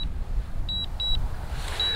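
A drone remote controller sounds a warning during return to home: three short, thin high beeps in an uneven rhythm, faint over a low background rumble, with no talking.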